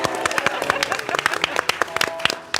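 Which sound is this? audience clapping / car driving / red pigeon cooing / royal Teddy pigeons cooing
audience clapping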